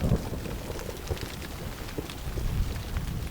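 Steady rain pours in the Vosges Mountains of France, a dense continuous hiss with low rumbling underneath, loud and unbroken.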